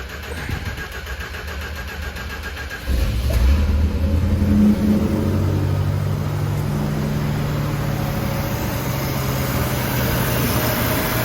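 A 1968 Chrysler Newport with carburetor fuel-flow trouble cranks and catches, then settles into a loud, steady high idle that carries on to the end with no talking.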